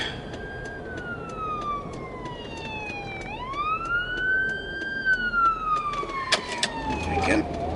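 A wailing ambulance siren sweeps up and down as it approaches and passes, loud and clear over road noise, with brief chatter near the end.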